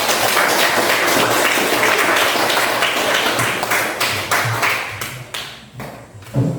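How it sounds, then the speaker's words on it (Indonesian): Applause from a class of students fills the room, a dense patter of many hands clapping at close range that thins and turns uneven toward the end. "Iya, tepuk tangan."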